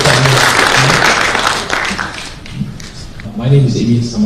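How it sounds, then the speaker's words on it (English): Audience at a sustainability panel discussion applauding an arriving panelist, a broad wash of clapping that fades out and returns briefly at the end, with someone speaking over it. "If you will applaud for him to contribute to the panel."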